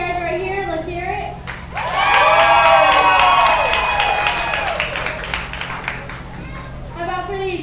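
At an alpaca costume contest, a crowd of adults and children claps and cheers to vote for a costume, loud rhythmic clapping with shouts and whoops rising suddenly, a voice talking before and after.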